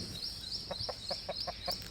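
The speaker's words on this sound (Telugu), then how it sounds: "మంచి జాతి కోడిపుంజులు మంచి బ్లడ్ లైన్ అండి కోడిపుంజులు" Caged Bhimavaram-breed roosters from a good bloodline cluck in a quiet, even series of short soft notes, with a thin high insect-like whine running steadily behind them.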